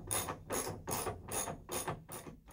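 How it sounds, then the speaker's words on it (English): Rear clamps of a truck bed cover being tightened with a ratchet, five or six quick, evenly spaced clicking bursts, close and crisp, with no talking. "Now you can tighten up your rear clamps."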